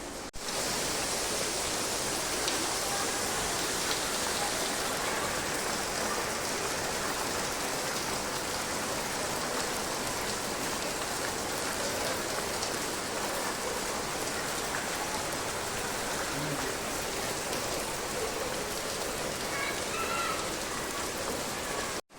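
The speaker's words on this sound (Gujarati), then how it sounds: "જોરદાર વરસાદ પડે છે." Heavy rain pours down outside, a dense, steady hiss that holds at an even level throughout with no voices.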